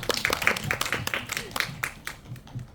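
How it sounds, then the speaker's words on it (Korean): A small audience at a community film event claps in a short, uneven burst of scattered hand claps, moderately loud, mixed with brief speaking voices. "박수. 잘 맞추셨습니다."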